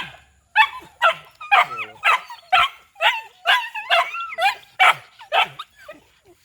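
A puppy and dogs barking and whimpering nearby: a rapid series of about a dozen high yips and whiny barks, loud and close, with short gaps between them.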